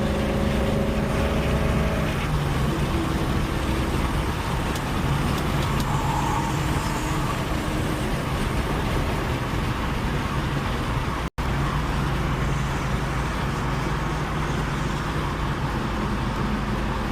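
A 2024 Ford Mustang GT with the 5.0 V8 drives along, its loud steady engine drone and road noise running the whole way with no talk and one very brief dropout.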